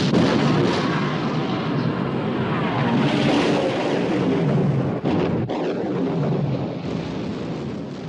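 Heavy naval guns fire in a 1960 British war film about the sinking of the Bismarck, a dense, loud roar of battle with booming blasts and rumbling, a sharp break near the middle before the din resumes.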